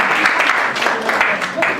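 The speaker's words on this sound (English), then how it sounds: "Clap hands for the gentlemen." Audience at an annual general meeting claps for a group of gentlemen, a brief burst of close, busy handclapping with voices mixed in.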